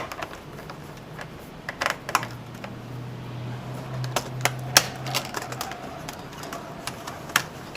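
Small screws being backed out of the keyboard on a Dell Inspiron 1525 laptop: a run of light, dry metallic clicks and ticks with a brief low whir near the middle, close up and with no one talking.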